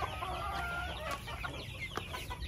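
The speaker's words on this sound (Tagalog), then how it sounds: "Manok, manok na" Hens cluck low and steadily on a farm raising Battlecross breeding stock, layered in a dense, busy barnyard din with no pauses.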